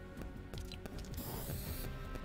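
A Fortnite spray paint effect hisses in short bursts, with a longer airy spray in the middle, set among faint clicks and game sounds.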